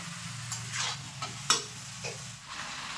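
Meat in a pan with ginger-garlic paste and green chili paste is stirred briefly, with a low sizzle under a few scraping strokes and one sharp clack of the utensil.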